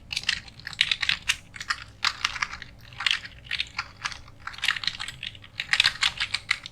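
Steady typing on a computer keyboard while entering data in an Excel attendance sheet: quick, close clicking keystrokes in irregular bursts, with no voice heard.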